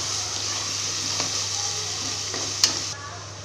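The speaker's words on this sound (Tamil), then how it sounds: "வெங்காயம் அரைச்சி வச்சுருக்கோம், அதை போட்டுக்கோங்க." Ground onion paste sautéing in oil for mutton kulambu, a steady close sizzle with faint stirring scrapes and one sharp clink near the end.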